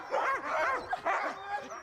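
Sled dogs bark and yip in an excited, close chorus of repeated overlapping barks with some whimpering, loud and busy throughout.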